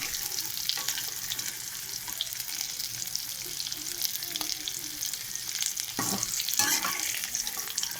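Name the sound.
cauliflower frying in oil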